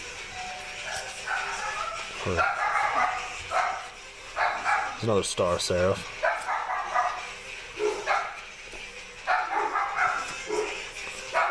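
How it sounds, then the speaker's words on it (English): Several dogs bark in sharp bursts, a cluster of yelps in the middle, while a person talks over them nearby. "Sorry about the dogs barking"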